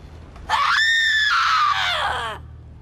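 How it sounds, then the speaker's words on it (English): A loud, sustained scream with a rising, wavering pitch is voiced into a cursed recorder in the video game Borderlands 3, lasting about two seconds before trailing off, heard alone over a low background hum. "Did you scream into this cursed recorder?"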